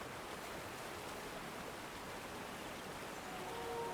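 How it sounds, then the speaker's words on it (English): A waterfall in the video game Dungeons of Hinterberg makes a steady, even rush of falling water that stays constant for the whole stretch, with no voices. "It's a waterfall, but it doesn't have anything behind it."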